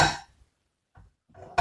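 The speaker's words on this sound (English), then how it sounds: "cover it halfway" A lid is set onto a cooking pot holding black-eyed peas and water: a sharp metallic clink, then two softer knocks as it settles, with quiet gaps between.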